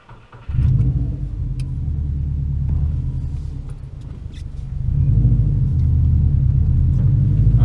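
A 2014 Subaru WRX pulls away, its engine rumbling loud and close with a low, steady drone that swells as it gathers speed.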